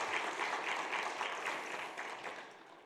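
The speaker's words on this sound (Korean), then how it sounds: "우리 수고한 남성교회 위해서 한번 힘차게 박수로 감사를 표하겠습니다." A church congregation claps together for the men's fellowship during a Sunday worship service, a steady, fairly soft wave of applause that thins out slightly toward the end.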